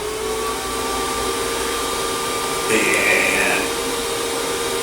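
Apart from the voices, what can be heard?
variable-speed end mill spindle spinning up for cutting gaskets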